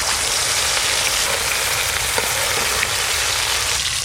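Ground spice paste frying in hot oil, a loud, dense and continuous sizzle close by with no break and no voices.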